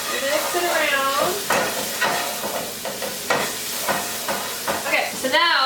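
Seasoned food, salted and peppered, stirred around a sizzling pan, with a steady fry hiss broken by repeated scraping strokes of a utensil; a voice talks over parts of it.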